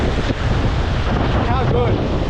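Wind buffets the microphone at an ocean shore in Chile as waves churn and wash in steadily, a loud, rough roar that continues throughout with no talk.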